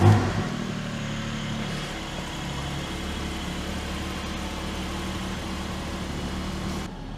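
A Porsche 718 Cayman GT4 engine drones steadily while driving, holding a loud, even low rumble for several seconds before easing slightly at the end.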